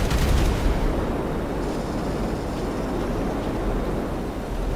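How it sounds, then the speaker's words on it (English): Explosive cannons fire in GTA Online, making a dense, continuous roar of blasts and rumble that is loudest at the start and then holds steady, with no voices. "she is firing the explosive cannons, but until she actually hits the ground with them"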